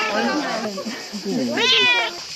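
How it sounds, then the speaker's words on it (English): A cat meows near a limestone building in Greece, a drawn-out rising and falling cry heard under and between a person's speech. "this cat has two names, Olympia and Hera."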